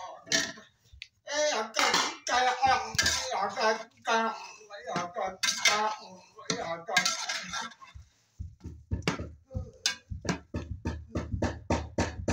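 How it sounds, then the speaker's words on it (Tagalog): Keema aloo matar, a minced beef, potato and pea curry, is cooked in a pot. Close metal clinks and utensil scrapes run under a person talking, and a quick series of sharp rhythmic taps follows near the end. "Cooking keema aloo matter"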